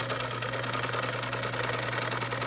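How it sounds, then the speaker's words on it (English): A sewing machine stitches a narrow channel along a quilt border, giving a steady, fast, even whir with a rapid mechanical pulse, close and continuous, with no talk. "I am sewing a channel with a perfectly even width"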